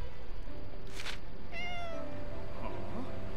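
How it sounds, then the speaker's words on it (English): A cat meows in the video game Gravity Rush 2, a single clear mid-pitched meow set over steady game background sound. "Wait, was that a cat?"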